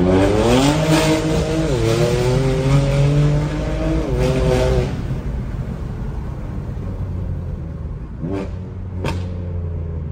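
A car tuned to stage 2 revs hard, close and loud, its engine note climbing and falling in strong repeated revs. As it settles, two sharp exhaust pops crack out near the end.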